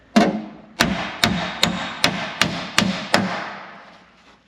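A hammer strikes sheet metal held on a dolly during planishing for a Zephyr conversion, about nine sharp, ringing blows at a steady, unhurried pace. Each hit is loud and close with a brief metallic decay.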